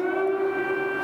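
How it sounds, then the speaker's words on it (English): A civil defense air raid siren sounds in a Ukrainian city during the 2022 invasion, holding a steady, sustained wailing tone with no voices over it, at moderate distance. "So as well as the explosions, we've got a siren that has just started."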